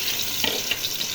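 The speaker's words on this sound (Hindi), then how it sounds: "तो अब ये पेस्ट जो मैंने टमाटर और अदरक लहसुन का ये इसके अंदर डाले" A paste of tomato, ginger and garlic fries in hot oil for goat trotters curry, giving a close, steady sizzle with a few brief bursts of crackle and stirring.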